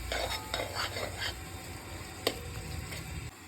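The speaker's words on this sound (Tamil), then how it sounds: "போட்டு நல்லா கிளறி விடுங்க." Grated carrot halwa with cubes of palgova is stirred in a pan, a spoon scraping in quick repeated strokes with faint sizzling beneath and one brighter metallic knock partway through.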